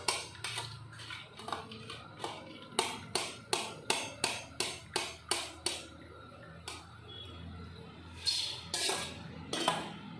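A metal utensil tapped against a pan to knock oil from a fried snack for avarekai mixture, a run of about ten sharp, evenly spaced clinks followed by a few rougher scraping clatters.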